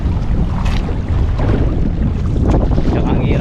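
Strong wind buffets a small fishing boat out on a rough sea with big waves, a steady loud roar of wind noise over the microphone mixed with water and hull sounds throughout.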